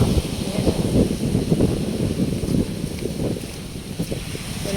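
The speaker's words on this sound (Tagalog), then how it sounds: "Ganda ng hangin." Wind gusts buffet the microphone outdoors on a waterfront boulevard in the early morning, a rough continuous rumble with faint voices beneath it.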